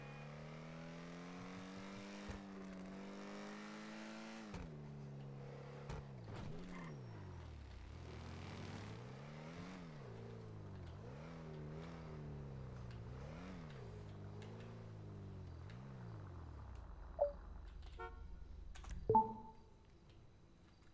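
Loud car engine in a video game revving up and down repeatedly in rising and falling sweeps, with a few sharp clunks near the end and no talking.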